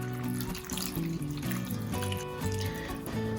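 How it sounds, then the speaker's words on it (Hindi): About a cup of water is poured into a cooking pot for chicken shami kebabs, a continuous close splashing trickle over a faint musical background, without talk. "यहाँ पे मैं इसमें डालने लगी हूँ तकरीबन 1 कप पानी।"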